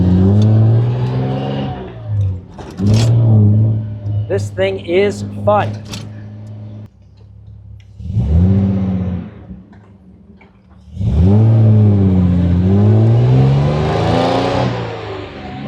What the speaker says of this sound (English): this thing starts right up. Quite a bit of transmission noise